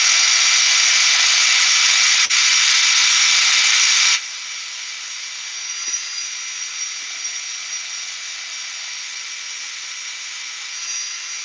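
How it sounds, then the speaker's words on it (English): Loud, steady broadband whirring of a power sander smoothing tool marks from a wooden skateboard box for about four seconds, then it cuts off, leaving a quieter lingering machine hum. "So I'm just sanding this smooth now."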